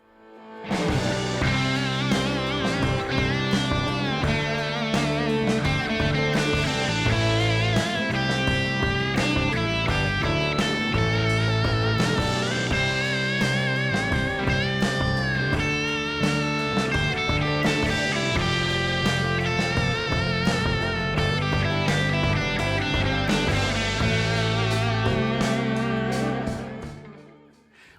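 A continuous lead guitar solo combining pentatonic shapes 1 and 5 plays for nearly half a minute, busy and bright, with gliding pitch slides and bent notes over a steady accompaniment.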